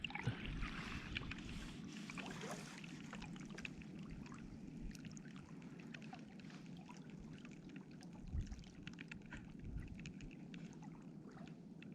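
Kayak paddling on a calm sea off South Australia's Eyre Peninsula islands, with a steady low wash of water and soft, repeated splashes and trickles of the paddle strokes, close and continuous throughout.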